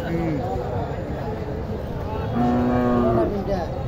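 Cattle low repeatedly at a crowded cattle market in Naogaon ahead of Qurbani, one long loud moo swelling near the end over steady crowd chatter and nearby voices.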